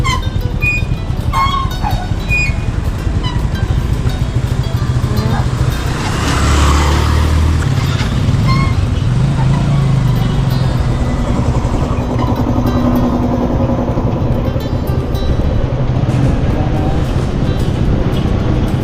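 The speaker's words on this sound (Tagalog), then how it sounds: "Maliit yung kalsada kaya traffic." Steady road traffic on a narrow, congested street, with cars and motorcycles idling and creeping past close by as a continuous loud engine rumble, engines rising and falling throughout.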